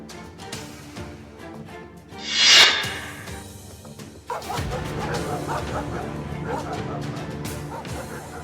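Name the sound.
stray dogs barking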